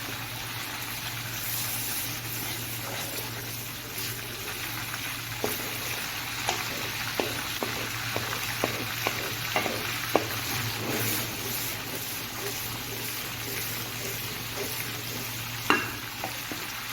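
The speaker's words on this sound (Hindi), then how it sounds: "इसको आपने 2 से 3 मिनट तक भूनना है" Okra (bhindi) frying for a restaurant-style masala gives a steady sizzle, with regular scraping stirs through the middle and one sharper knock near the end, over a low constant hum.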